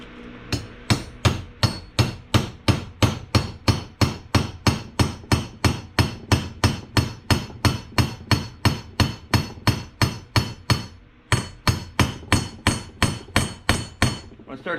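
Metal hammer blows drive a valve guide into a cylinder head during a full head rebuild, a steady run of about thirty loud, evenly spaced ringing strikes with one brief pause near the end, close and alone.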